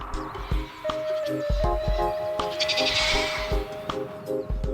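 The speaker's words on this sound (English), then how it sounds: "Jacob, the rare breed ram, has fathered the vast majority of the farm's lambs." A rare breed ram on a farm bleats in repeated wavering calls, loud and close, with background farm noise and no talk.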